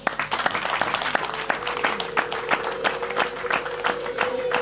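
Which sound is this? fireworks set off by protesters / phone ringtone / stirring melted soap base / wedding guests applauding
wedding guests applauding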